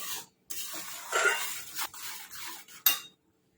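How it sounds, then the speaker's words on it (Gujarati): A spoon scrapes and clinks in a pan as roasted flour for a fasting-day halwa sweet is stirred off the gas, in a few close, soft scraping strokes with brief pauses. "નીચે ઉતારીને બે મિનિટ સુધી આપણે હલાવીશું આ રીતે"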